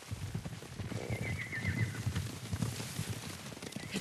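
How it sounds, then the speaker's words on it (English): Horses in the Ghost of Tsushima video game whinny and clop at a moderate distance under a steady wash of ambient game noise, the neighs rising briefly midway through. "Horses, they're coming for us."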